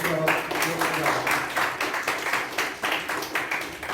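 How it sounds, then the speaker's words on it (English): Audience at a Toastmasters workshop giving a speaker a round of applause, steady clapping from many hands heard throughout. "let us give a big round of applause to our Murali Rao"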